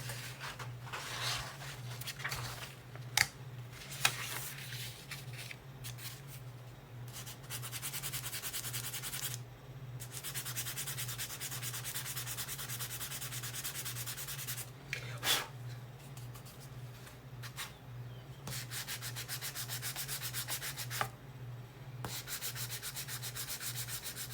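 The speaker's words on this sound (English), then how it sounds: "I didn't sand those, so let me sand those real quick." Small wooden pieces being sanded by hand make a continuous rhythmic rubbing and scratching, close and fairly quiet, with brief pauses between strokes and a low steady hum beneath.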